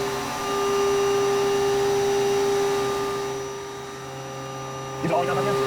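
A milling machine spindle spins at 8,000 RPM, giving a steady tonal hum that stays level for several seconds and ends with a short rough burst.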